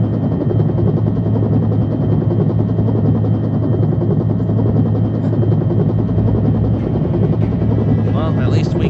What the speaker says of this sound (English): I'm standing in the helicopter blades.